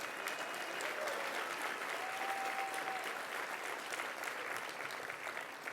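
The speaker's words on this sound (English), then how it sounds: "Let's give them a round of applause" Sustained applause from a crowd at a Pride agenda fall dinner, a dense, even wash of clapping lasting throughout with a faint voice briefly audible beneath.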